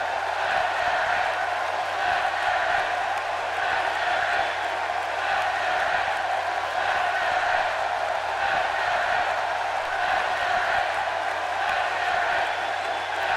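Arena crowd in WWE 2K18 cheering for Shinsuke Nakamura, a steady, dense roar that holds at an even level throughout with no breaks, moderately loud and alone.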